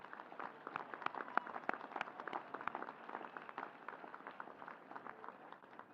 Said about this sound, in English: give them a round of applause and thank them for their support of you